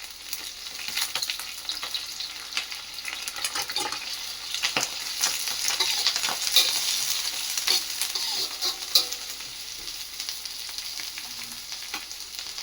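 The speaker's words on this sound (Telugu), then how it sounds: "ఆనియన్స్ వేసుకోవాలి. కరివేపాకు కూడా వేసుకోవాలి." Onions and curry leaves fry in a pan as the base for egg rice, producing a steady close sizzle with occasional stirring scrapes and crackles throughout.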